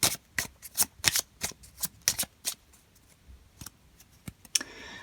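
Tarot cards being cut and shuffled by hand, a run of sharp papery riffles and flicks in an irregular rhythm, close and fairly loud, with no talking.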